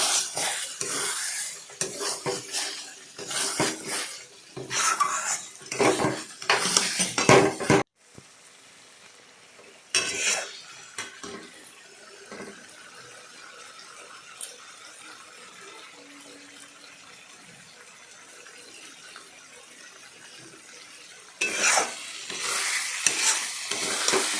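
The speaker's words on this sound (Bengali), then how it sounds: "আমি টমেটোমের সস দিয়ে সেই মশলাটাকে ভালো করে নাড়াচাড়া করলাম" Masala with tomato sauce stirred in a pan for a reta fish curry, with bursts of scraping and clattering spoon strokes, a long quieter stretch of low sizzle in the middle, then stirring resumes; no voices.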